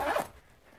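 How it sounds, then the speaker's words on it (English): A zipper on a 600-denier polyester tactical water bottle pouch with a double zipper, holding about a 40-ounce bottle, gives one short close rasping pull that quickly fades into quiet. "Has a double zipper feature so you can grab from it from either side."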